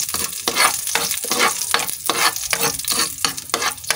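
Garlic and onion sautéing in a hot pan for a pancit and sardine dish, a steady loud sizzle broken by regular scraping strokes of a spatula stirring, close up with no talking.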